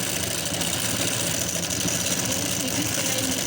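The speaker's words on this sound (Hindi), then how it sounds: "यहाँ से जो है हम अपनी सिलाई शुरू करेंगे" A sewing machine runs a straight seam while elastic is attached to a sleeve. Its motor gives a steady, continuous whirring hum with a rapid mechanical rattle, close and unbroken throughout, with no talking.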